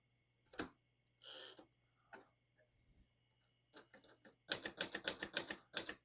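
Keys clacking on a 1954 Smith-Corona Skyriter portable typewriter with automatic ribbon reverse, first a few scattered mechanical clicks and a short rasp, then a rapid close burst of crisp keystrikes at the end, no voices.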